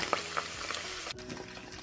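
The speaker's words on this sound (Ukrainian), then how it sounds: "Смажимо картоплю на середньому вогні І кришкою" Steady sizzling and crackling of potatoes frying in a covered pan over medium heat, with a continuous bubbly hiss and a few small pops, heard up close without talking.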